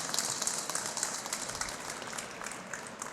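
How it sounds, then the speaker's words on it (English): Applause at a state senator's press conference: a steady patter of many hands clapping, moderately distant and fairly even, with no voices over it. "So let's give them a round of applause."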